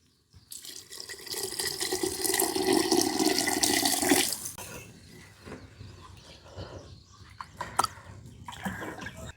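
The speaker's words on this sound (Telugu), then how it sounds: "పులుసుకి సరిపడా నీళ్ళు పోసుకుందాం." Water is poured from a vessel into a pot of Nellore-style tamarind fish stew, a steady splashing gush for about four seconds that then fades into faint drips and small kitchen clatter.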